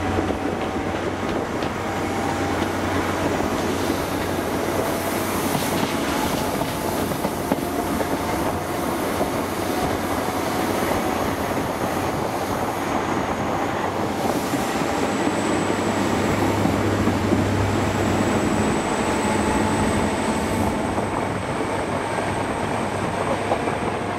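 HST train 43070 departing Port Talbot, a steady rumble of wheels and engine heard from aboard, with faint rhythmic clatter and a thin high whine rising later.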